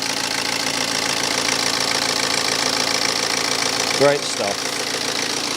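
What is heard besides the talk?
BMW diesel engine idling after start-up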